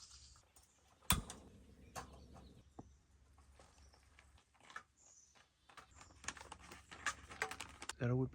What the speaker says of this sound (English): Is that a woodpecker?